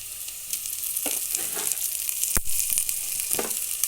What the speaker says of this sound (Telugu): ఇది మంచిగా ఫ్రై అయ్యేదాకా, కొంచెం అన్నీ కలిపి మంచిగా ఫ్రై అయ్యేదాకా, మాడిపోకుండా చిన్న మంట మీద ఫ్రై అయ్యేదాకా చూసుకొని